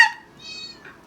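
A pet cat named Cypress meows a few times close by, with a short sharp call followed by a longer rising meow and then a softer trailing sound in a quiet room.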